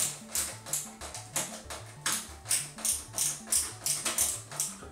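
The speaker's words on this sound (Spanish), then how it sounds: "Vamos a colocar el último tornillo ya que nos queda." A screwdriver drives the final screw during PC assembly, producing a regular series of close, crisp ratcheting clicks in quick repeating bursts with no talk over them.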